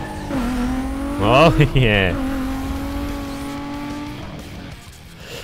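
In Need for Speed Most Wanted (2005), a tuned car's engine drones loudly, surges into a sharp rev up and down at mid-clip, then settles back to a steady hum that fades out. Someone speaks briefly.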